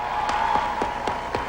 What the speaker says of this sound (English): So let's give Governor Clinton a big round of applause.